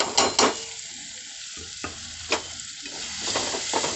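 Spices fry in oil for tomato rice, with turmeric, chili powder, mutton, chicken and garam masala stirred through the pan before any water is added; scraping stirs and a soft sizzle come close up with no talk.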